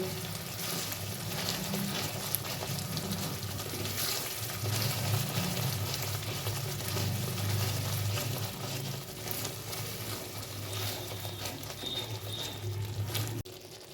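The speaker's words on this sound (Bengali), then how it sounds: "ভালো করে নাড়তে হবে অনবরত, যাতে নিচে লেগে না যায়।" Green pea paste frying in a wok while being stirred constantly, a steady close sizzle with scraping strokes running throughout, no voices.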